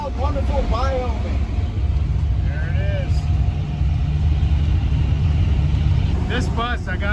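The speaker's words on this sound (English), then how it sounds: "This bus, I gotta say, rides like a dream, especially, you know, even the bumps that we're encountering on this kind of not perfect road." A converted school bus rolls along an uneven road in Wyoming, a steady low engine and road rumble under continuous conversation, with a few chirping squeaks over the drone.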